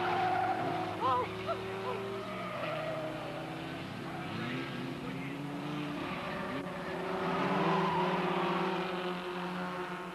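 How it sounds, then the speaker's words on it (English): Race cars at a circuit roar through the last bend, engines whining and shifting pitch, with tire squeal and skidding as one car collides and spins off; a voice talks over the engines. "They collide. The other car spins off the track."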